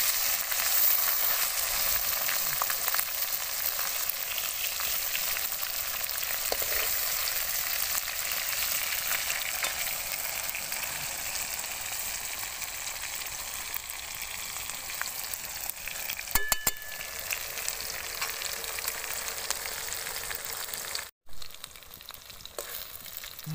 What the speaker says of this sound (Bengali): মাছ আমার এক পাশ ভালো করে ভেজে নিয়েছি। এবার আমি মাছগুলো সব পাল্টে দেবো।